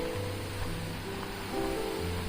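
Water Tiger Falls pours down a jungle mountainside in a steady, broad rushing roar, continuous and fairly close, with faint tonal hums running beneath.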